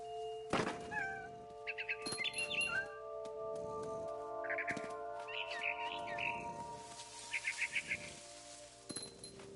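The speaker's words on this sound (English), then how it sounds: "Then I heard chirping outside my window. It was a barn swallow going back to her nest." A barn swallow chirps outside a window in the video game What Remains of Edith Finch, giving several short bursts of quick, bright twittering. Soft thumps and a steady background hum sit beneath the calls.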